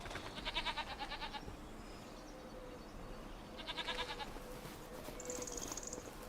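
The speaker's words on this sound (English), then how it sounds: "this goat clearly likes it, he's jumping around" A goat in Farming Simulator 25 bleats in three wavering, pulsing calls spread over several seconds, moderately close, over a low background with no talk.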